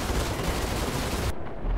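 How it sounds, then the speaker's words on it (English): Hornet ship machine guns in the space game Star Citizen fire in a continuous rapid burst, loud and dense, cutting off abruptly near the end with a brief rumble after. "Time for the machine guns!"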